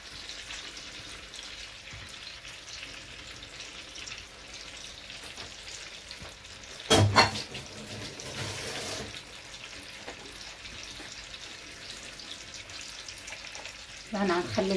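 Chicken frying in a pot for a chicken tajine with raisins and onions, a soft continuous sizzle with a brief clatter and splash midway and muffled kitchen movement.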